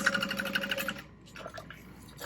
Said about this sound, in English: we're just going to sew completely through it